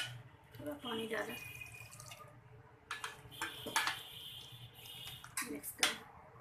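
Water pours into chole masala simmering in a pot on a gas stove, a steady splashing wash with a few louder surges, close and moderately quiet, with no talking.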